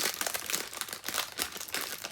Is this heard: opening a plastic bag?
yes